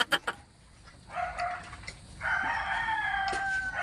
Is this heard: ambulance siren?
no